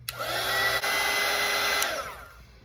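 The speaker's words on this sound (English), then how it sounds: "I'm going to grab my dryer real quick just so I can speed up the process of this" A hair dryer blowing steadily on watercolor paint, a loud continuous whir running for a couple of seconds with a brief dip before it tails off.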